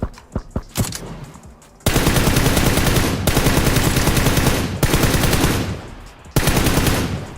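Gunfire in PUBG on console, heard as loud, rapid bursts of automatic shots with short gaps between volleys after a few scattered single shots.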